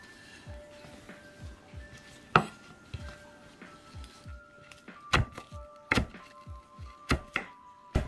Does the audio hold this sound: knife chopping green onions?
yes